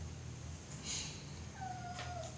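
A kitten meows faintly in a quiet room, a short high cry followed by a thin rising call, set over a low steady hum with no talk.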